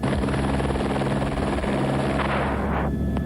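A helicopter flies overhead with a loud, steady rotor and engine roar that fills the whole stretch, near and continuous with no talk, tailing off slightly at the end.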